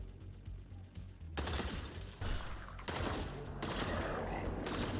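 Dense, sustained gunfire from the first-person shooter STRAFE rattles almost without pause in loud overlapping bursts, with a brief quieter stretch at the start.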